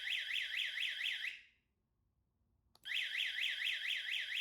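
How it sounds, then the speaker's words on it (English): A relay-controlled alarm sounds close and loud as a rapidly warbling siren tone, cuts out for over a second, then starts again after a small click. "Press and hold the remote button. The alarm activates."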